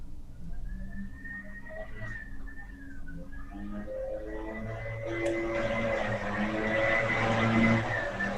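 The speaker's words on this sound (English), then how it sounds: "There's a whistling sound and truck sound." A truck passes along a Cuban street, its engine swelling and rumbling louder over several seconds while a high whistling tone runs along above it.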